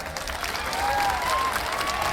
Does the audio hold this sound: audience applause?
yes